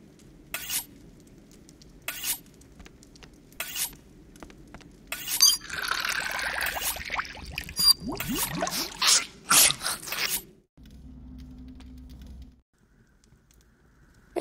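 Water poured in the Anna's Quest video game, a bright trickling and splashing with dripping that runs for several seconds among other short game sound effects, set against a faint low background hum.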